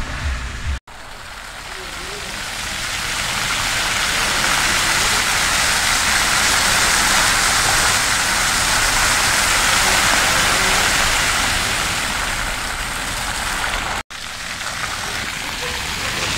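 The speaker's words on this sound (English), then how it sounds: "Dancing fountains." Dancing fountains at a Mexican shopping mall give a steady, loud rush of splashing water lasting the whole stretch, with a brief dropout near the start and another near the end.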